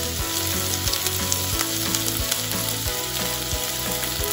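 Ginger and garlic sizzle steadily in hot oil while Veg Manchurian is being made, a dense, close crackling fry with faint stirring and no voices.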